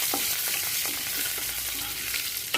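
Chopped green coriander goes into hot oil in a pan and sizzles hard and continuously up close, with occasional stirring clicks underneath. No speech.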